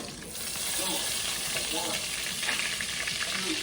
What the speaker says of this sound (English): we need this vegan butter to melt